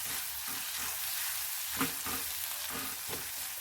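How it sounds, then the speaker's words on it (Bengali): Onions fry with salt in a pan, a soft, steady sizzle broken by faint rhythmic scrapes of a spatula stirring. "পেঁয়াজটা ভাজা হয়ে এসেছে"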